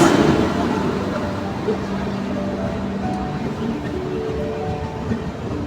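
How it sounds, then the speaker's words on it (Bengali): The 12801 Puri–New Delhi express pulls into Bhadrak station with a steady, close, heavy rumble of rolling wagons and faint rhythmic wheel clatter throughout. "আর এদিকে ঢুকছে ভদ্রকে one two eight zero one Puri থেকে নিউ দিল্লি সপ্তম এক্সপ্রেস"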